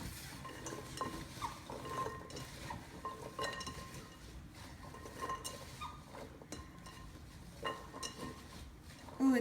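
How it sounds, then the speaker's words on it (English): Butternut squash pieces stirred with pumpkin pie spice and extra cinnamon, a close, steady scraping and clinking of a utensil against the dish, continuing throughout at a moderate level. "And then we're going to mix that up so it's all nice and coated with the spice."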